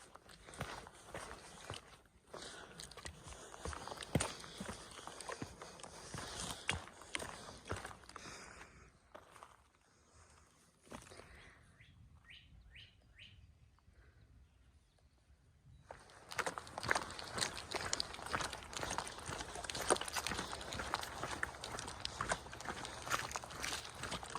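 Hiking footsteps on the Appalachian Trail near Catawba and Roanoke, a steady crunch of boots on the trail, loud and close at first, dropping to quiet for a few seconds, then returning strong.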